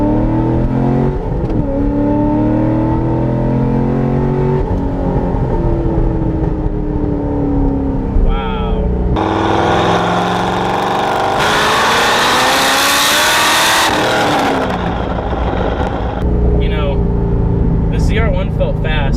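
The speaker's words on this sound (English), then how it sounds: "we'll do a little second gear pull here" Naturally aspirated 7-liter V8 in a C6 Corvette Z06 pulling hard in second gear, the engine note climbing steadily as it accelerates, loud and heard from inside the car, with a voice speaking over the roar.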